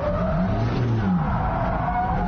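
A formula race car brakes hard on the final corner of a circuit and runs off the track, a loud continuous engine and tire scrub sweeping close by with no voices.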